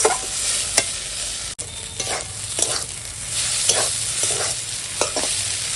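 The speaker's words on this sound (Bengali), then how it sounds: "একদম এইভাবে নেড়ে নেড়ে শুকনো করতে হবে তাহলেই লোটে মাছ রান্না হয়ে যাবে" Loitta fish fried dry in a pan are stirred steadily, a spatula scraping and tapping the metal in irregular strokes over a constant close sizzle.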